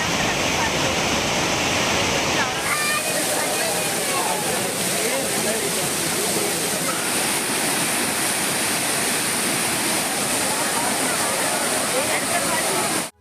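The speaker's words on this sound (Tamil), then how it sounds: "அனைத்து அருவிகளிலும் தண்ணீர் வரத்து சீராக உள்ளதால் மக்கள் குளிக்க அனுமதிக்கப்பட்டனர்" Water pours down the Courtallam waterfalls in a loud, steady roaring rush that runs without a break and sounds close at hand.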